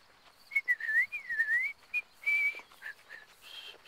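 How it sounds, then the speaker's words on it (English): A person tries to whistle a song: wavering, slightly unsteady tonal notes rise and fall in short phrases with breathy gaps, close and moderately loud, alone without talk. "if I could whistle, I'd whistle that song that you whistled, but I can't"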